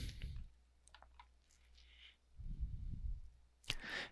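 A single computer mouse click on a checkout button, crisp and close in a quiet room, with faint background hiss and a soft rustle earlier.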